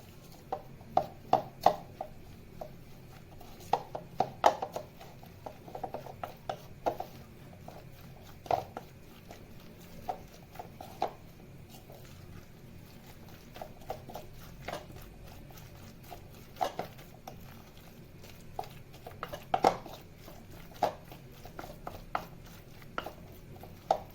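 Layered tagine ingredients with creamy cheese being mixed by hand in a bowl, soft scraping and tapping strokes in an irregular rhythm, close and fairly quiet, with no talking.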